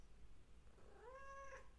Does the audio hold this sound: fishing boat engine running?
no